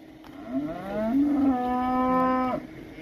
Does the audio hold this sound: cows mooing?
yes